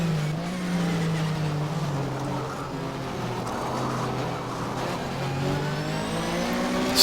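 A Mobil 1 Porsche Super Cup race car in Race07 accelerates out of Druids at Brands Hatch, its engine note droning and then climbing steadily in pitch, loud and close throughout.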